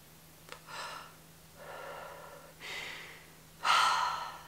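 Breath exhaled slowly after a pull from a CBD vape, several soft airy exhales and inhales close to the mic, the last one louder and stronger, with no talking.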